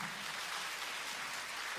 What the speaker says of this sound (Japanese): 改めて大きな拍手